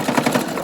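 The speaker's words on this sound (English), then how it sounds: "I wanna make sure that I do a very solid, controlled back stitch there" A sewing machine back stitches ribbon onto a fabric cinch sack, a brief close burst of quick, even mechanical pulses from the needle.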